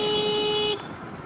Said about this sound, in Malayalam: ഇവിടെ ഹോൺ മസ്റ്റാണ്.